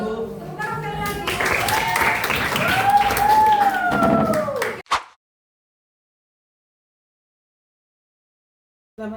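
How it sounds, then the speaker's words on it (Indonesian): Audience applause and cheering at an Indonesian school event, loud, dense and close for about five seconds with voices rising through it, then an abrupt cut to silence. "Tepuk tangan sekali lagi."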